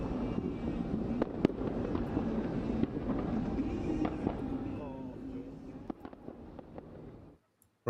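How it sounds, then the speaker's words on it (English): New Year's fireworks heard through a live stream, a dense crackling barrage with scattered sharp pops and bangs, loud and continuous before cutting out near the end. "We know what fireworks sound like"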